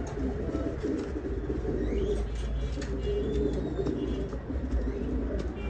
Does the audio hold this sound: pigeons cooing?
yes